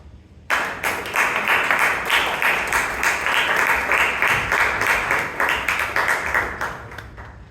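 Sustained applause from a Toastmasters club meeting audience in Bangalore, a dense room-filling patter of many hands starting abruptly and holding steady for several seconds, loud and close with no speech over it.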